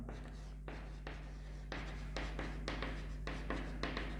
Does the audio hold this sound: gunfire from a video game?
no